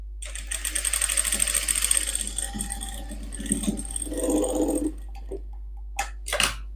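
A sewing machine stitches the front darts of a blouse in fast rhythmic runs that slow and stop, followed by a few quiet clicks and short bursts near the end.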